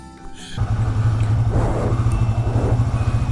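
A motorcycle engine catches after a brief moment of quiet and settles into a close, steady, low pulsing idle at the start of a ride through Guwahati, Assam.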